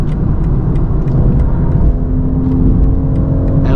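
A car accelerating hard under power on the road, a loud continuous engine drone and rumble building steadily close by, with no talk over it.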